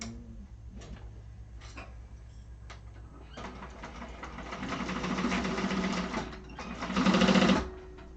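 An industrial sewing machine stitches lightweight fabric for a Maxine tote bag, starting with a few short ticks, then running in longer steady bursts that swell louder near the end, with no talking.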